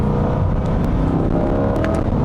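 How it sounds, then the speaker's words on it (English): A 2021 Chevrolet C8 Corvette's engine roars loudly and up close during a downshift to third gear, a deep sustained growl with rich rumbling harmonics and no talking over it. "Listen to this engine. It's beautiful, it's absolutely beautiful"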